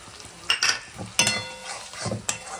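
Soaked cumin and coriander with other spices frying in a pan, with soft sizzling and a few sharp stirring scrapes and clinks from a spoon against the pot, close and fairly quiet.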